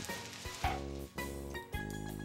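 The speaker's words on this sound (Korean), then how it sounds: "밀가루 반죽을 펴서 기름에 튀겨내서 먹습니다" Flattened flour dough fries in oil over a fire in a mountain teahouse on the Annapurna Circuit, giving a steady close sizzle that swells in repeated hissing surges.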